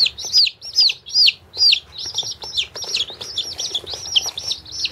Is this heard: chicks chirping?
yes